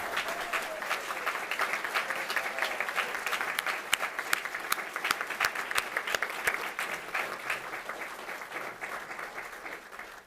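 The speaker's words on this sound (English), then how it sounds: "now's the time to applaud and thank them for doing that" Council candidates at a League of Women Voters forum in Holland, Michigan receive a sustained round of applause from the audience, an even crowd clapping heard from a moderate distance at a fairly low level throughout.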